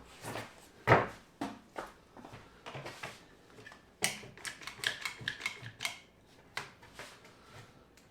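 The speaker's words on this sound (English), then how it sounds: "I need a clamp, get it where I want it" A clamp tightened on a slightly out-of-square wooden 100-gallon fish tank stand: a sharp knock, then a run of close ratcheting clicks and small mechanical snaps, with no voices.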